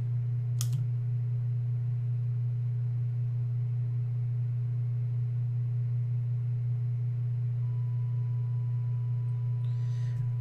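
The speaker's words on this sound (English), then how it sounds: "that was the sound of his heart monitor going flat" A heart monitor flatline in Five Nights at Freddy's 4 sounds as a faint, steady continuous tone under a low hum, with a brief click near the start and another soft noise at the end.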